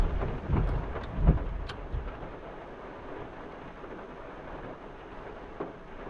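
Thunder rumbling through a thunderstorm during rain, a few deep, low booms early on that fade into a quieter, steady wash of rainfall with no voices.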